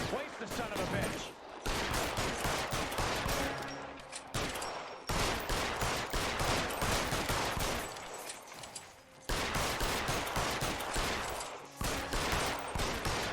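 Gunfire in the video game LA Noire, sustained rapid volleys of shots in several long bursts separated by short pauses, loud and dense.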